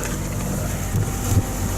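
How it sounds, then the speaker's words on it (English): A sailboat's engine running while punching against the tide off Bryher in the Scilly Isles, a steady low drone mixed with wind buffeting the microphone and a couple of brief bumps. "I've still got the engine running as well, because I'm punching against the tide"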